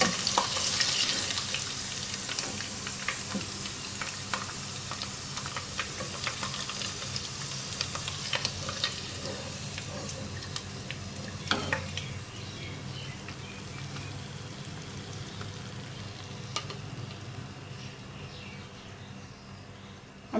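Oil fries ingredients for a chicken korma in a steady, close sizzle that runs throughout, with scattered crackles and occasional sharper pops.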